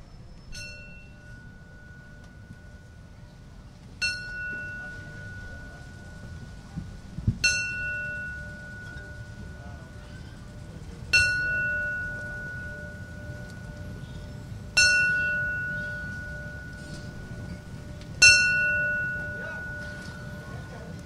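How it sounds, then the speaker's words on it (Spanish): A ringside bell at a boxing event in a casino arena strikes in slow, evenly spaced tolls. Six clear metallic rings each decay into a long, sustained tone over a quiet room murmur. "vamos a escuchar 10 campanadas"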